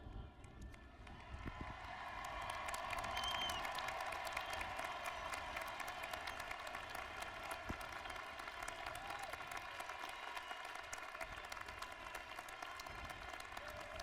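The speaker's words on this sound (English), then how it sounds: "we all stand up, everyone, including the graduates, and applaud the class of 2001" A large audience at a university commencement ceremony applauds the graduating class, a steady, distant wash of many hands clapping in a big reverberant space, continuing evenly for over ten seconds.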